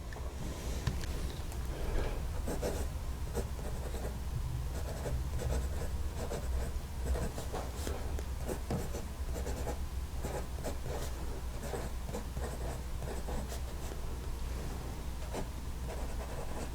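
Fountain pen with a broad nib writing on paper, a close, continuous scratchy rasp of strokes and pauses with no talking.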